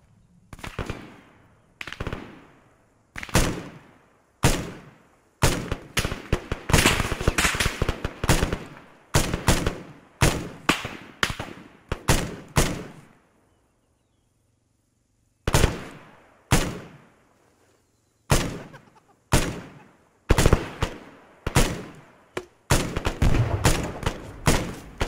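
Gunfire in the military shooter game Arma 3 during an assault on a compound: sharp, close shots in rapid bursts and single cracks, with brief pauses between volleys and a longer lull midway.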